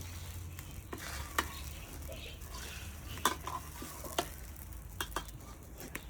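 Egg frying in a pan over a charcoal stove, a steady low sizzle and crackle with scattered sharp ticks and spatter pops, close and moderate, no talking.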